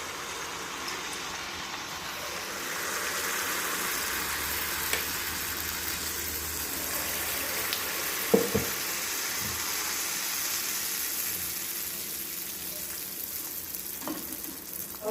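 Sweet bonda batter deep fries in hot oil, giving a steady, even sizzle throughout, with a few soft knocks and clinks over it.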